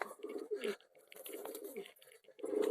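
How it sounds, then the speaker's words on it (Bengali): Racing pigeon, a cross between a Giribaz and an Ablu, cooing repeatedly in a rolling series of close, fairly loud calls with short pauses between them. "আমাদের রেসার ডাকাডাকি শুরু করে দিয়েছে"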